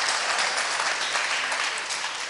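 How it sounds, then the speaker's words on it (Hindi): Dense, steady applause from a crowd of party supporters at a political rally, loud and continuous without pause. "जियालों ने इस बात पर भी तालियां बजा दी"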